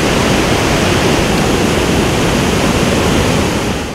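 Waterfalls and rapids at Presidente Figueiredo in Amazonas roar in a loud, steady broadband rush that fills the whole moment with no gaps and no voices.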